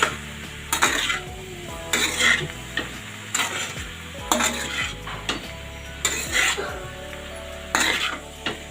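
Besan gatte curry being stirred in a pan, a spoon scraping and clinking against the metal in repeated bursts over a soft sizzle, with no talking.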